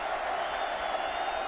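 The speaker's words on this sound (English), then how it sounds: "Crowd getting into it." Football stadium crowd in Austin during a 2011 K-State vs. Texas game, a dense continuous roar of cheering that holds steady throughout.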